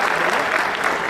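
Dense, steady applause from the audience at a Hindi kavi sammelan poetry recital, a continuous wash of many hands clapping close by with no gaps.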